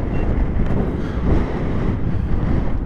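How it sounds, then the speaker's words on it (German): Wind buffets the microphone while a motorcyclist stops at a cold, windy viewpoint on a motorcycle trip, making a loud, continuous low roar and rumble with no voices. "aber es ist doch ziemlicher Wind"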